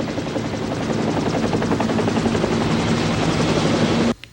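A loud helicopter carrying a horse slung beneath it drones overhead with a rapid, steady rotor chop and engine whine, cutting off abruptly near the end.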